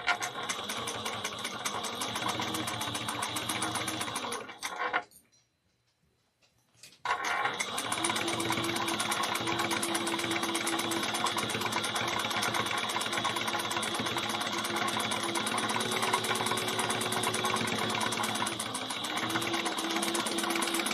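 A sewing machine stitches a bag seam at a 1/8 inch seam allowance, a fast steady mechanical chatter running close and continuous, with one brief pause of about two seconds early on.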